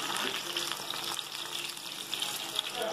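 Okra pieces fry in hot oil with a soft, steady sizzle and watery crackle, close but faint, lasting only a few seconds.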